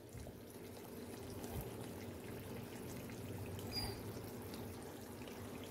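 Saffron-tinted milk pours steadily into moong dal halwa, a soft continuous trickle at low volume with faint kitchen background and no speech.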